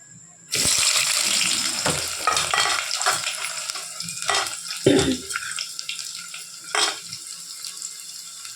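Three onions dropped into hot oil for a chicken curry: a loud sudden sizzle bursts in, then crackles on with scraping stirs and splashes, gradually settling.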